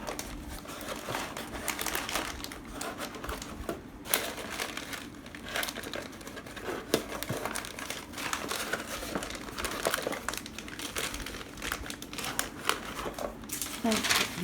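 Paper or similar sheet material being crumpled into balls for a Christmas display's mountain scenery, a steady close crinkling that runs throughout, dense and continuous with occasional sharper crackles.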